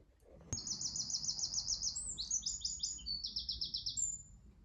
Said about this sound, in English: When you put the tune on the phone, the bird sings.